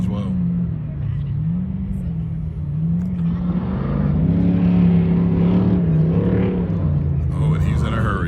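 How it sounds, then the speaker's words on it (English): Off-road race car at King of the Hammers, a steady loud engine rumble with rising and falling revs as it moves through a small valley section of the course, with commentary talking over it throughout. "we've got another car entering there into this little valley or place as well"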